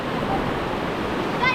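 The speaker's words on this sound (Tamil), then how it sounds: "அலை பார்த்தீங்களா ஹெவி." Strong surf at Dhanushkodi beach, a continuous rushing wash of heavy waves with wind noise, steady throughout and swelling briefly near the end.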